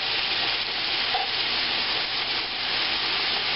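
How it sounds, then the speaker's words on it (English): Chopped vegetables sweating in oil in a pan for smothered cabbage, a constant dense sizzle and hiss, close and even in loudness, with no speech. "in goes our veggies. We're going to let these sweat off for a few minutes, start to get translucent."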